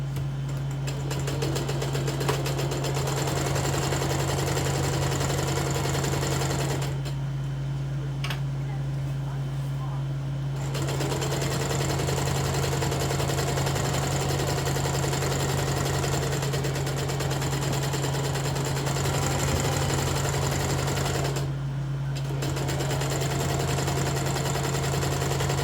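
Sewing machine stitching a pair of pants (Simplicity 1622 pattern, size 26), a steady continuous mechanical whir running close and loud almost throughout, with two brief pauses and a quiet spoken voice in places.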